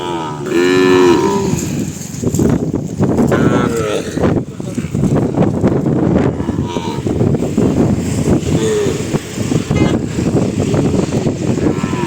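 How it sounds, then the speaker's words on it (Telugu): A large cow moos loudly several times, with long low calls recurring through the scene at a cattle sale in Duvvuru town, Kadapa district, amid outdoor wind and background voices. "పెద్ద సైజు ఆవు ఇది కూడా"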